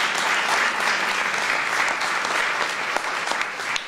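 Sustained audience clapping fills the room at a mayor's city budget speech, a dense, steady wash of many hands that holds loud throughout and thins slightly near the end.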